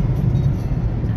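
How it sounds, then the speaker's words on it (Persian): A JAC J4 car on cruise control speeds up by itself toward about 120, with a steady, close low engine and road rumble heard alone. "ماشین خودش گاز میخوره"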